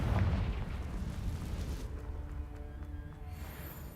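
A Confringo fire-blast spell detonates in the game Hogwarts Legacy, a loud rumbling boom that fades into a lingering low roar over about four seconds, with no talk.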